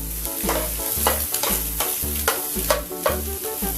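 Shrimp stir-fried in a pan with garlic sizzle loudly and continuously, while a spatula scrapes and clacks against the pan in a quick, regular rhythm, close up with no talk.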